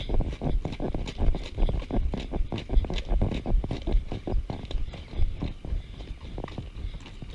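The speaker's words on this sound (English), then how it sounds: "What a lovely trot." Horse's hooves trotting along a hack outdoors, a steady close rhythm of dull clip-clop beats throughout with no talk over them.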